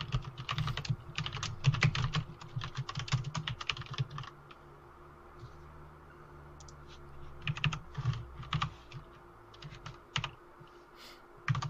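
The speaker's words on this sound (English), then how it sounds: "Sorry, typing." Close, quiet clatter of computer keys being typed in quick bursts, pausing for several seconds, then resuming in scattered clicks.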